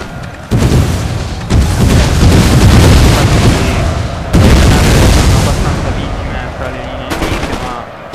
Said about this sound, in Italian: io intanto devo far smettere ai miei cannoni di far fuoco